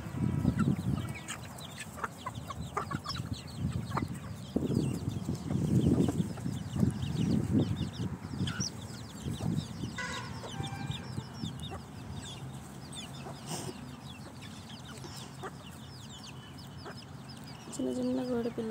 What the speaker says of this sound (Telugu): చిన్న చిన్న కోడి పిల్లలు అక్కడ కూడా మేస్తూ ఉన్నాయి. కోళ్ళన్నీ తింటున్నాయి.